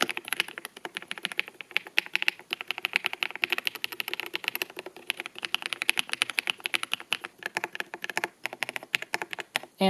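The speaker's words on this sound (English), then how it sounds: "Here's a quick typing test just to serve as an example." Fast steady typing on an AJAZZ AK820 Max mechanical keyboard with linear switches produces a dense stream of crisp, close keystroke clacks in quick irregular rhythm, with no talking over it.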